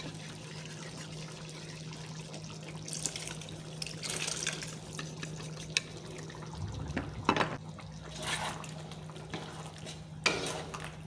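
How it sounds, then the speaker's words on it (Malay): Coconut milk thinned with a little water being poured into a pot of softened chicken gulai with coconut shoots, a soft trickling splash over a low steady hum, fairly faint with occasional utensil clinks. "kita masukkan santan"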